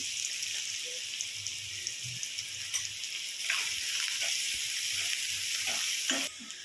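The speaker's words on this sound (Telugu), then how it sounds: "ఆనియన్ అయితే ఫ్రై అయిపోయింది." Onions sizzling as they fry in a pan, a steady bright hiss with a few soft clinks and stirring taps, fairly quiet and even, the hiss dropping away abruptly near the end.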